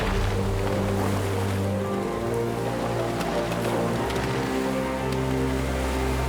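Arctic ocean waves wash and churn in a dense, steady roar with a low rumble beneath, close and continuous, with no voices.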